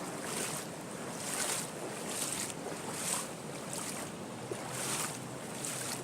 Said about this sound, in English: It's a matter of making your way across the stream here.